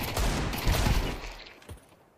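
Gunfire in a first-person shooter video game, a quick loud burst of several rapid shots followed by a fading crack and a faint tail, brief and close, with no talk over it.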